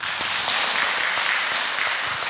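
Audience at a Buddhist Dharma talk during a Buddha-recitation retreat at a temple claps after a story ends, a dense, even patter of many hands lasting a couple of seconds, with no voices.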